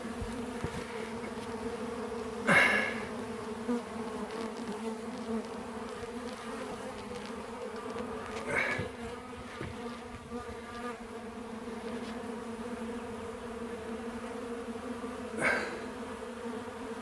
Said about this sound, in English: Let's see all these bees.